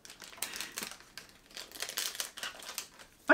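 Crinkling plastic packaging being peeled off a second-hand 1/8 scale anime figure, close and intermittent rustles and crackles in short bursts, ending with a sharper louder crinkle.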